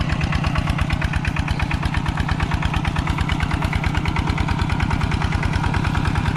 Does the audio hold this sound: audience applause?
no